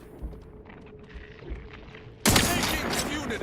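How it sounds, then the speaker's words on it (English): Sniper rifle fire in The Outer Worlds 2 cracks out as one sudden loud blast late in the clip, followed by a ringing, noisy tail, after a quiet stretch of faint game ambience. "Let's open up with a sniper rifle from stealth."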